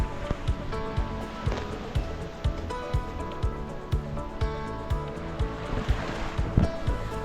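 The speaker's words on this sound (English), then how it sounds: "we're not pounding into waves because we're going with them" A sailboat runs downwind wing on wing with a staysail, waves washing and slapping against the hull in a steady, rhythmic pattern of sloshes and thumps, close and fairly loud with no talking.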